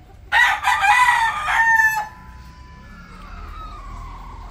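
A Rhode Island rooster lets out one loud, close cock-a-doodle-doo lasting about two seconds, then fades to quiet farmyard background.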